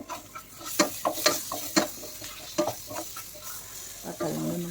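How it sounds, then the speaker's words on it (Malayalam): Chopped small tomatoes tipped into a hot frying pan for chicken curry and stirred, a sizzling bed broken by repeated quick spoon scrapes and taps in uneven rhythm, close and unaccompanied by voices. "നല്ലോണം ഒന്ന് ചൂട് ഇളക്കി കൊടുക്കാം നമുക്ക് രണ്ട് തക്കാളി ചെറിയ തക്കാളിയാണ് കട്ട് ചെയ്തത് ഇട്ട് കൊടുക്കാം"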